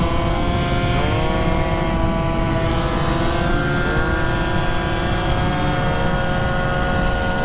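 A Yamaha Zuma scooter's engine runs loud and close, a buzzing drone whose pitch slides up and down as the throttle rises and falls, with steady rumble underneath.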